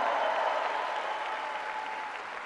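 Sustained applause from a large crowd at an evening Warrior Games event in a Tampa arena, a dense, even wash of clapping that fades slightly toward the end.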